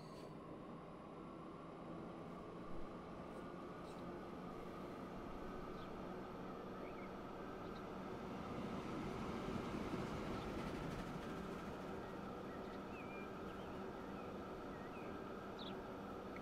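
A train runs along the track in the video game Transport Fever 2, giving a quiet, steady rumble with a faint whine that swells slightly midway.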